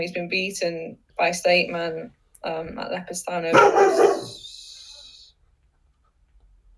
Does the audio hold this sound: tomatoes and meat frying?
no